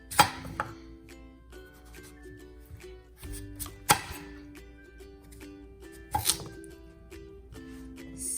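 A knife cuts pumpkin into smaller pieces on a cutting board for a Thai coconut milk dessert, with several sharp, close chops scattered irregularly between quieter slicing and handling sounds, in a quiet kitchen with no talk.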